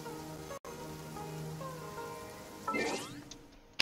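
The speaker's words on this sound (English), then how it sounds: "It's still raining." Rain falls in a fantasy adventure video game, a soft continuous patter on surfaces under faint game music tones, with a brief gap and a sharper splash of chimes near the end.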